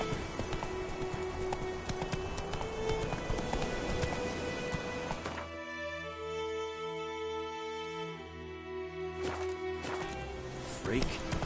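In The Witcher 3, Geralt's horse Roach gallops in quick, rhythmic hoofbeats under a layered game soundscape with tonal music, and speech is likely mixed in.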